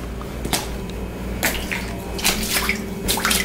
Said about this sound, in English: See, we have a large volume of water here.